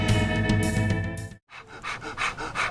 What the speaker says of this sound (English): why are you panting like that?